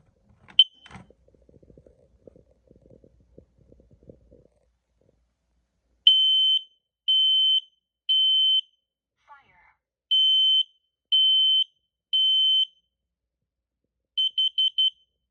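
Kidde carbon monoxide alarm sounding during a detector system test on a demo board: loud sharp beeps in repeated groups, preceded by soft handling noises and a brief lower electronic tone midway.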